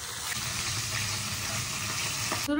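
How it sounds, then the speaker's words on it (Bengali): Fish frying in hot oil in a kadai at a family picnic, giving a steady, close crackling sizzle that holds evenly throughout with no talking. "মাছটা ভাজা হয়ে গেছে"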